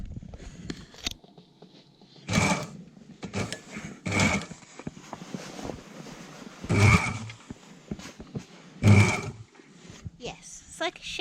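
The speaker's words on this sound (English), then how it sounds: "this piece here involves us moving the entire Bimini material around the sewing machine" A sewing machine on an old boat in Greece stitches Bimini canopy material in several short, loud mechanical bursts with quiet gaps between them, while people talk nearby.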